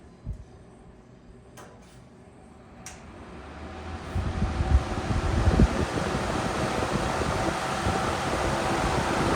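Lasko metal box fan switched to medium speed, its broad airy whoosh swelling over a few seconds after some faint clicks, then settling into a steady, fairly loud rushing hum.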